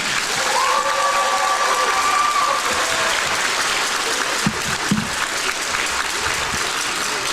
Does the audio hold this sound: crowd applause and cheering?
yes